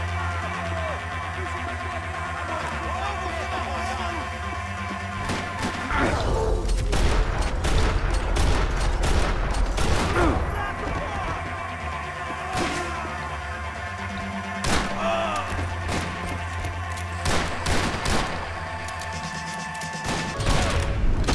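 Repeated gunfire in Max Payne 3 on Xbox 360: loud, sharp shots in irregular volleys with crashes and thuds mixed in, carrying on for about twenty seconds without any talk.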